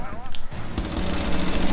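Gunfire in Rainbow Six Siege erupts as a rapid automatic burst after a brief quieter moment, loud and sustained to the end, with a voice speaking over the start.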